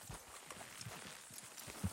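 Horse hooves clip-clopping at a steady walking pace in Red Dead Redemption 2, fairly faint and rhythmic with no talking.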